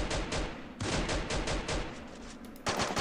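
M2P submachine gun fire in Free Fire, with rapid evenly spaced shots in two bursts, a brief gap between them, and a final shot at the end.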